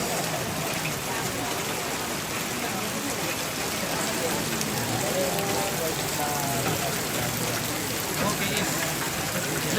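Heavy rain falls steadily on surfaces at a traditional Toraja tongkonan house, a dense continuous hiss and patter with voices talking faintly beneath it.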